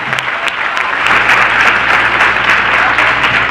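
A congregation applauds loudly and continuously, a dense even wash of clapping that swells slightly partway through and holds steady to the end.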